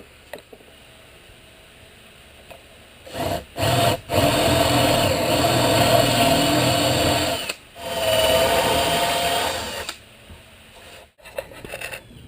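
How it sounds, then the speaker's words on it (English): A power drill with a Forstner bit whines in long bursts, cutting steadily through plywood into poplar, with short pauses between runs and quiet handling noises. "I'll drill all the way through the plywood down to the poplar."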